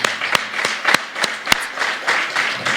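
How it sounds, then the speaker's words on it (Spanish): A church congregation gives praise applause, dense close clapping with a few sharp individual claps standing out, continuous for a few seconds. "Dame un aplauso al Señor"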